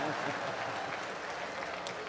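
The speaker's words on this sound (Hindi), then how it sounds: "ताली बजाओ यार सब एक साथ" A comedy poetry gathering's audience claps together in a dense, sustained wash of applause that carries evenly from start to finish, with crowd murmur mixed in.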